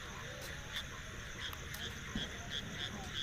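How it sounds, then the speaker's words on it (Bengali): Crickets and frogs call at night in a quiet, remote spot near Baharan station, with faint, regularly repeated short chirps over a steady hum of background noise. "ঝিঝি পোকা ডাকছে, ব্যাঙ ডাকছে শোনা যাচ্ছে"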